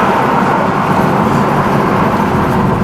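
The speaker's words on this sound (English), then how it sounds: "So you can hear that small exhaust leak" A 1970 Camaro with a 350 V8 runs steadily with a small exhaust leak, giving a loud, continuous broadband rumble from close by with no speech over it.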